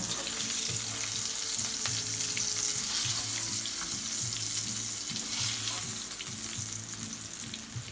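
Sausage patties sizzle in an oily pan, a steady close crackle that runs without a break, with a low rhythmic hum beneath it.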